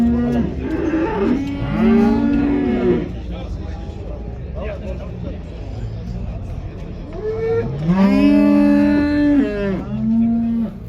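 Cattle at a livestock bazaar in Kyzylorda, Kazakhstan, give two long, loud, close moos, one near the start and another near the end, with market noise and chatter around them.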